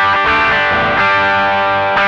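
An electric guitar plays through an Ibanez NU Tube Screamer NTS overdrive pedal with a miniature vacuum tube, drive at minimum yet still gritty. Loud, sustained chords are struck again about every second, each ringing out before the next, ending abruptly.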